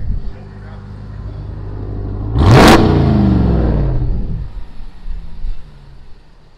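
A RAM pickup truck's engine revs hard at the exhaust, swelling into a loud burst of acceleration near the mic before settling back to a steady idle rumble outside a dealership, with people talking around it.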